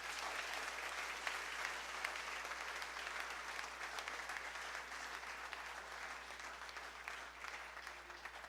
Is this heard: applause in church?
yes